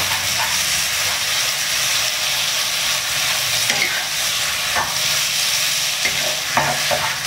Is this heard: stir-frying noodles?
yes